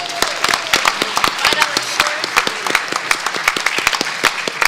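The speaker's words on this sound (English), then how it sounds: "give a huge round of applause to Christie for the silent auction and everybody that donated to it" A convention audience at the Libertarian Party of Texas state convention breaks into sustained applause, dense overlapping claps filling the room at steady strength for several seconds.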